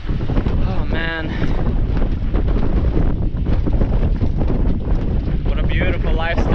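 Strong wind roars and buffets across an anchored sailboat off Sicily, loud and gusty with rigging creaks and water sloshing, while someone talks over it.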